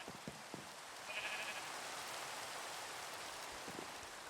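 A sheep in Minecraft gives a single short bleat partway through, over a steady rain-like hiss that fills the whole clip.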